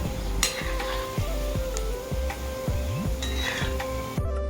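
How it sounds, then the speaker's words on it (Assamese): Semolina gulab jamun balls fry in hot oil with a continuous close sizzle, joined by a few sharp clicks and tonal sweeps partway through. "আৰু এইখিনি একেবাৰে ৰঙচুৱা নোহোৱালৈকে আমি ভাজি থাকিব লাগিব।"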